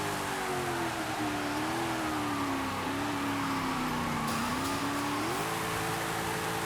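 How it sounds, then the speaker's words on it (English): A car in Forza Horizon 5 holds a burnout, the engine droning at high revs with a slowly wavering pitch under a broad hiss of spinning tyres, steady and continuous throughout. "the front wheels are in place and the rear wheels are spinning. So that's burnout."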